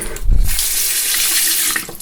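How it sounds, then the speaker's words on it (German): Cold tap water runs loud and close into a sink in a steady hiss and splash as a face is washed after a shave, with a few brief splashes over the flow. "Immer mit kaltem Wasser waschen, damit die Poren wieder schließen"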